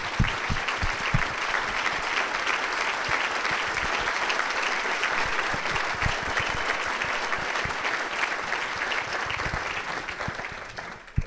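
A Hall of Fame induction audience gives a long, sustained round of applause, a thick continuous roar of many hands clapping that holds steady for over ten seconds before tailing off.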